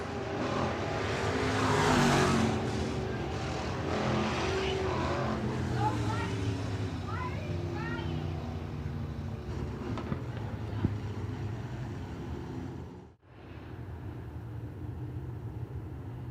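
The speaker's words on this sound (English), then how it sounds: "so the RPMs come up." Deep engine rumble from several stock cars at Crawford County Speedway builds steadily before a race start, a dense roar with rising pitch and a brief dip near the end, with a crowd murmuring underneath.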